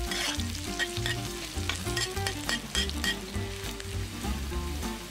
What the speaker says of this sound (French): Nous allons faire rissoler le tout jusqu'à ce que l'ail et l'échalote deviennent translucides.